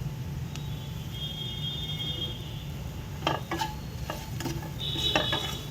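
Three kinds of potatoes being tossed with pepper powder, turmeric and salt in a kadai, with soft stirring scrapes and light metallic clinks over a low, steady background hum, and a few sharper scrapes toward the end.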